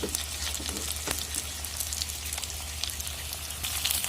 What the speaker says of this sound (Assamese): এতিয়া মই ইয়াতে মাংসখিনিত দিবলৈ কাটি থোৱা অলপ পিঁয়াজ দি দিছোঁ